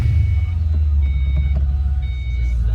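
A 2005 Ford Mustang Saleen S281 coupe idles low and steady just after a cold start, with a deep continuous rumble and faint chime-like tones above it.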